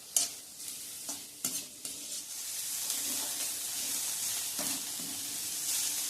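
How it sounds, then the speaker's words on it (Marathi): Finely chopped onion, one small or medium, sautéing in a pan for a spicy stuffed ridge gourd dish: a steady, soft sizzle with occasional stirring scrapes, moderately close and continuous, no talking. "हा बारीक चिरलेला कांदा आपण ह्याच्यावर परतून घेणार आहे"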